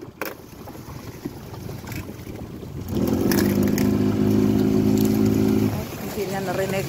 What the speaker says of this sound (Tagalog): Kasi maingay yung motor.